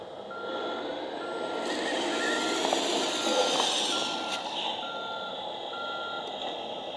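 Handmade DIY mini crane truck model reversing, its warning beeper sounding a repeated, evenly spaced electronic tone over a soft motor whir, moderately close.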